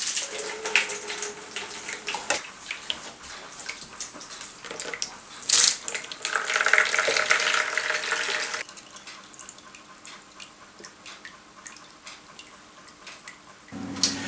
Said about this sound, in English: you then need to strain it.